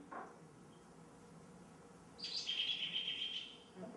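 A robin giving its high-grade alarm call, a rapid, sharp, intense run of high chirps lasting about a second and a half, fairly close, preceded by a soft rustle outdoors.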